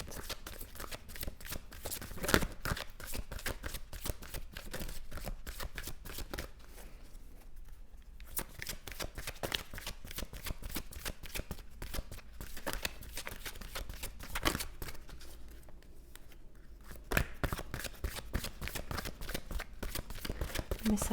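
A deck of cards being shuffled over and over in dense riffling bursts, close and steady, with a few short pauses between rounds and no talking.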